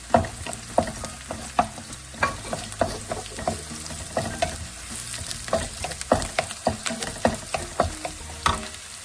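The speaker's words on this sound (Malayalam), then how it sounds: "ഇതിനകത്തേക്ക് നമ്മൾ സ്പ്രിംഗ് ഒനിയന്റെ വെള്ള ഭാഗം അതും കൂടെ ചേർത്ത് കൊടുക്കാം" White parts of spring onion stir-fried in a pan for spicy dragon chicken: steady close sizzling with repeated sharp scrapes and clacks of a spatula in an uneven rhythm, no voices.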